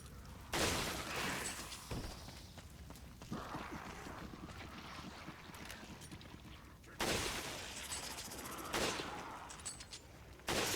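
Gunfire in the video game Resident Evil 5, Mercenaries mode in the village stage, with sharp loud shots at irregular intervals over a busy background of game noise and rumble.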